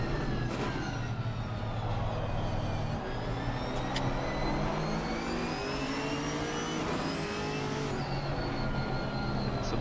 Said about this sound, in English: Some beautiful sounding cars in this game.